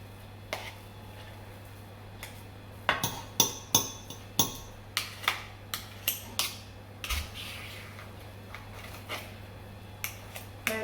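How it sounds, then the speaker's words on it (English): A metal fork scrapes and taps against a baking tray while tinned haggis is scooped in, a series of sharp, quiet clinks at an irregular rhythm, close by over a steady low hum. "I'm using a fork for this so that we can put this"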